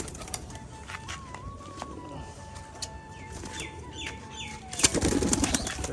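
Pigeons in a Rajshahi rooftop loft flock, a flying breed, lift off with a burst of close, loud wing flapping near the end, after quieter flutters, scattered chirps and a faint whistle-like tone.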